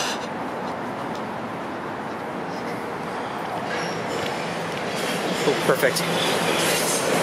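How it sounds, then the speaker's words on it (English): A Toronto subway train rumbles past in a steady broadband roar with faint wheel squeals, heard from nearby in the Rosedale neighbourhood; a voice speaks briefly over it. "Good place to overlook the subway trains."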